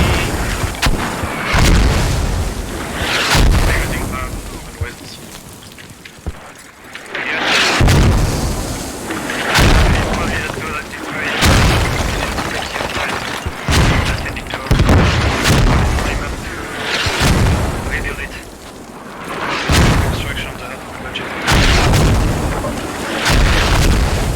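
Mortar shells in a video game match boom heavily and repeatedly, deep loud blasts every few seconds over rumbling battlefield noise, with a commentator talking throughout.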